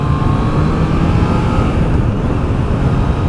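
A steady 2021 Triumph Trident 660 motorcycle engine drones throughout while riding, loud and close, with constant road and wind rumble and no talking.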